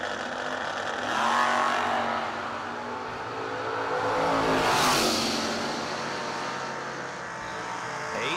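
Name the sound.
1968 Chevelle and Z28 Camaro drag racing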